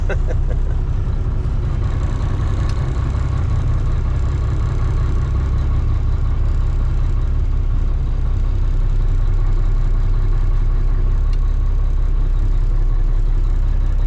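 Truck engine idling steadily while being parked, a loud, continuous low rumble close by that holds for the whole stretch without pause.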